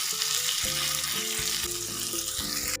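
Shrimp fry in a pan with potato, onion and green chilli, a loud, continuous close sizzle with a faint stirring clatter underneath and no talking.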